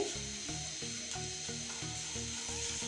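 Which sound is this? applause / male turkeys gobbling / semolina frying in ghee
semolina frying in ghee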